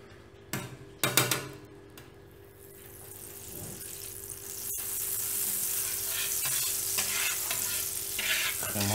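Oil and butter frying in a pan, opening with a few loud clinks and knocks, then a sizzle that builds and stays steady and close.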